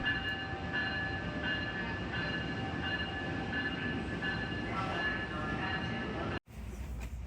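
A crowded subway train rumbles steadily nearby with a faint high whine over the roar, then the sound cuts off abruptly near the end.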